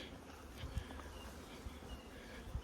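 Honey bees buzz around their hives in a faint, steady drone, with a few soft low bumps over the quiet hum and no one speaking.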